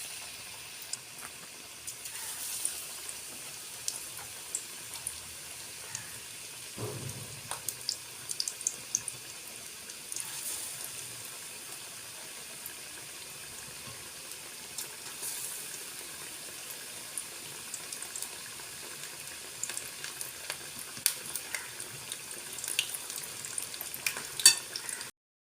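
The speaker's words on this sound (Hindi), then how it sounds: "पैन चूल्हे पे रख लिया, घी गर्म हो चुका है। अब हम एक एक करके इसमें डालते जाएंगे।" Potato pakoras sizzling in hot ghee in a pan on a stove, a steady crackling fry throughout with scattered sharper pops and occasional clinks, close and fairly quiet, no talking.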